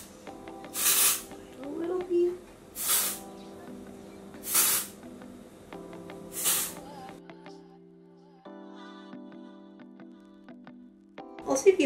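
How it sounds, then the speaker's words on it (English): ORIBE texturizing hair spray hisses in four short, evenly spaced close-up bursts over a steady tonal background, followed by a quieter stretch without spraying. "I use my ORIBE texturizing spray"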